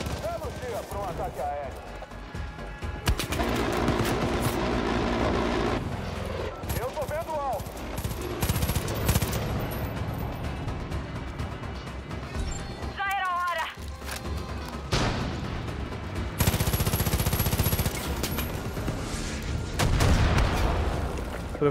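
Rapid bursts of gunfire in Far Cry 5 crackle repeatedly while a voice talks excitedly in Portuguese over the shooting.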